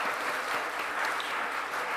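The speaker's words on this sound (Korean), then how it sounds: "우리 축하한다고 박수 보낼까요?" A church congregation gives continuous applause for the week's birthday children, a steady even clapping from many hands filling the room.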